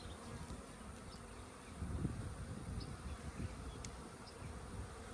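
Honeybees buzz around a hive in a soft, continuous drone that swells slightly midway, faint and alone without voices.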